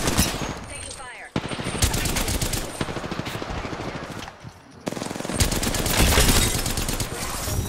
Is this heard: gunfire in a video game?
yes